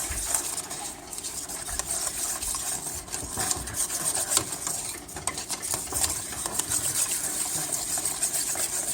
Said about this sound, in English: And you can feel it thicken up even more as you whisk.